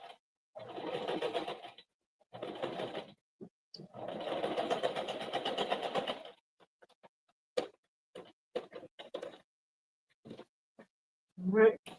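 A home sewing machine back stitches a knotted baby hat, leaving a gap for turning. Two longer bursts of rapid, even stitching come close and clear, followed by brief mechanical clicks and a few short spoken words.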